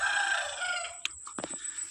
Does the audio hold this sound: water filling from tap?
no